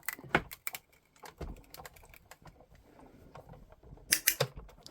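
A die cutting machine pressing a junk journal corner die through a cutting plate sandwich: sharp clicks and taps in bursts, a loud cluster near the start and another near the end, with quieter mechanical rustle between and no talk.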